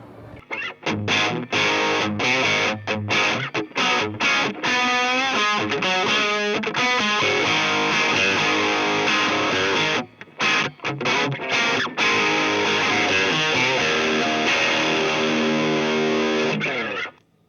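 Heavily distorted electric guitar chords and riffs through a Koch Jupiter 45 amplifier in boost mode, loud and close, played continuously with a few brief pauses between phrases.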